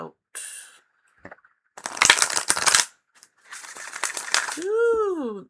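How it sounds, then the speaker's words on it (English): Tarot cards are shuffled by hand during a live reading, with two bursts of crisp riffling and snapping close to the microphone. Short pauses separate the bursts, and a brief sung or hummed tone follows at the end. "that was just a lovely shuffle off the back"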